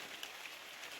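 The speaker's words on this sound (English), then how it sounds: "it's starting to rain" Light rain begins falling at a wilderness trailhead, a faint, soft, continuous patter with a few slightly louder drops.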